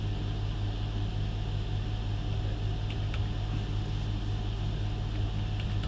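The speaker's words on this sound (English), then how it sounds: "is that blender sound the RAM fan?" A loud cooling fan on RAM in an overclocked PC running at -40C, a steady whirring roar with a low hum, close and constant, with a few faint clicks.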